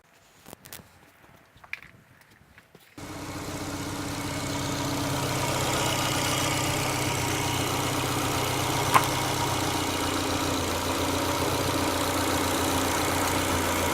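A Ford Puma 1.7 Racing edition engine, just back from a stage 1 service with the cam belt re-tensioned, fires up after a few quiet clicks and shuffles, then settles into a steady, even idle that runs on alone.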